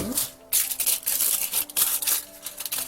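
Small piece of kitchen foil, about 13 by 12.5 cm, crumpled by hand into a ball or droplet shape, giving close, crinkly rustling in uneven bursts with brief pauses, faint voice in the background.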